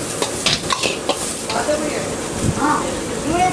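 Vegetables such as onion, capsicum, carrot and cabbage are stirred together with macaroni on a street food griddle, with continuous sizzling and scraping of the spatula while voices talk faintly.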